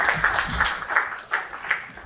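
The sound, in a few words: applause at installation dinner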